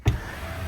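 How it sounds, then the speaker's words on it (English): Cadillac Lyriq electric sliding canopy shade starting up: a short thump followed by a steady low motor whir that continues to the end, heard close inside the car with no talk. "We have the electric slide going on look at this."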